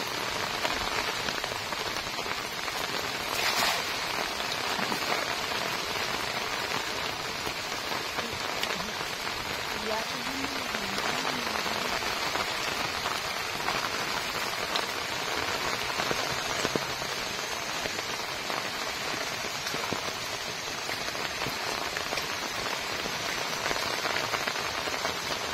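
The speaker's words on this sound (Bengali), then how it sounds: "ব্যাপক বৃষ্টি শুরু হয়ে গেছে।" Heavy rain pours steadily beside a village pond in the Sundarbans, a dense, unbroken hiss of drops striking water and ground that stays loud and even from start to finish.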